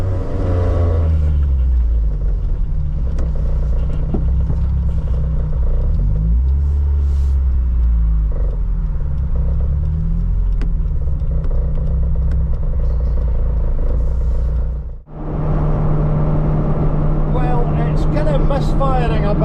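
Chevrolet Nova engine misfiring while driving and stuck in third gear, a loud continuous rumbling drone with uneven pulses. Near the end there is a brief dip, and the engine then pulls harder.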